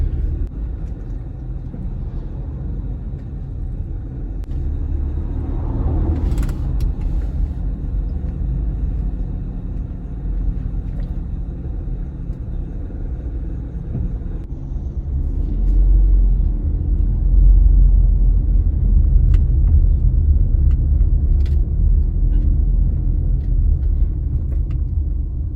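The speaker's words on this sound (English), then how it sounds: "encountering a bit of traffic." Road traffic heard from inside a moving car in St. Andrew, Jamaica, a steady low rumble that swells in the second half, with a brief passing whoosh near the start.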